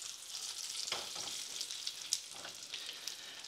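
Fat from meat for a traditional carbonara fries hot in a pan, almost deep frying, giving a steady close crackling sizzle with small pops and occasional bursts as it is stirred, no voices.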